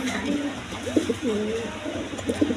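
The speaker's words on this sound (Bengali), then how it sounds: "এই দেখেন গাজী মডার্না একদম বিগ সাইজে" Big Gazi Modena pigeons cooing in a loft, a series of soft, low rolling coos close by over a background hum, with no talk over them.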